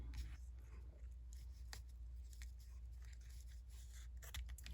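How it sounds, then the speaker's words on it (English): Scissors snip the ends of a ribbon bow on a handmade floral greeting card, producing a few quiet, close cuts over a faint background hum. "You can trim the ends off, which I'm going to do. Let me get my good scissors out."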